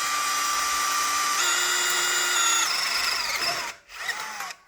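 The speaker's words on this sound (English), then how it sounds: "then you just drill the hole through the end of the" A power drill bores a hole through the end of a Kawasaki W800 exhaust silencer, a steady high whine that shifts pitch twice as the bit bites into the metal, then stops briefly and restarts.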